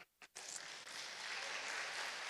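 Audience applause in a church hall during a children's service, a couple of brief claps then a sustained dense burst of clapping from the congregation that grows slightly fuller.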